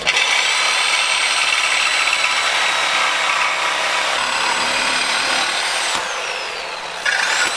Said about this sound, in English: Now it's time to cut this off the old cross member.